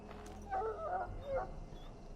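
A sick dog in the fantasy role-playing game Dragon Age: Origins whimpers and gives a couple of short barks, close and fairly faint, over a low game soundtrack.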